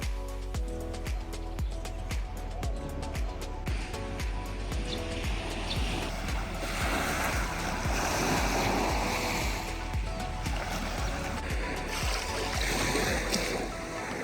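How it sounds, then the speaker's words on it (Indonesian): Morning waves on the beach at Gili Trawangan, Lombok, wash in with a steady, moderate surf rush that swells and recedes, while a rhythmic low thumping and tonal music-like layers run underneath throughout. "menikmati suasana pagi hari di pinggir pantai kayak gini"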